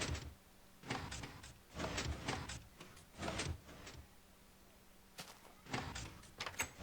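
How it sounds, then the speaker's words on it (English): A Minecraft piston door works in a video game, producing a series of short, sharp mechanical whooshes and clunks in separate bursts over a faint low hum. "The door opens."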